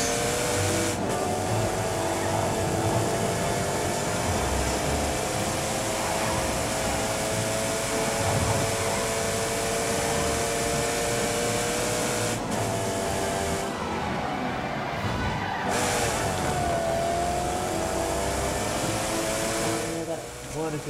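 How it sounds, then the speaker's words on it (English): Jim Clark's Lotus race car in The Grand Tour video game, its engine droning steadily and loudly for the whole stretch, with rising and falling pitch sweeps as it shifts through gears. "get to drive Jim Clark's Lotus"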